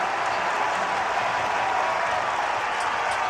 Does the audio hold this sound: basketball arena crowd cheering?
yes